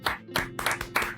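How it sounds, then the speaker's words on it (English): Studio audience gives a brief round of applause for music-industry guest Jeanny Ricci at a podcast interview, a handful of distinct, close claps in quick succession lasting about a second. "People, please, a round of applause for Jeanny Ricci."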